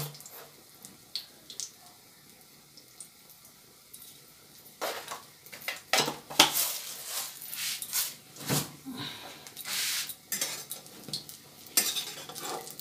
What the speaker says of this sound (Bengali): এই সবগুলো দিয়ে আমি দইটাকে মিশিয়ে নেব